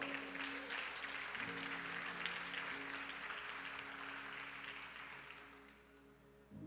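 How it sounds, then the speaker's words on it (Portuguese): Church congregation applauding during a sermon, a steady wash of clapping under a held organ or keyboard tone, gradually thinning toward the end. "Você pode aplaudir o Senhor?"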